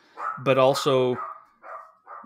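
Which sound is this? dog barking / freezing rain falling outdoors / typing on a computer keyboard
dog barking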